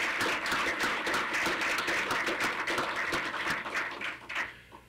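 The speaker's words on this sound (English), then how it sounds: "I think we all owe them a hearty round of applause for that work" A faculty gathering gives a committee a hearty round of applause, with many hands clapping close and steady before it fades out toward the end.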